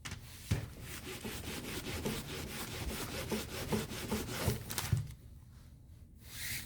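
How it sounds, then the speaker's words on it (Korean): Carved leather being buffed by hand with a cotton work glove, a steady scratchy rubbing in quick back-and-forth strokes close up, with occasional knocks from a shaking desk. "목장갑을 끼고 좀 정성스럽게 문질러야 됩니다"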